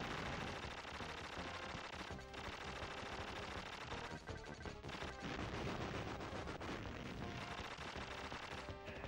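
Spread gun firing nonstop in the video game Contra: Hard Corps, a dense, loud barrage of rapid electronic shots and bursts layered over game music, continuous throughout.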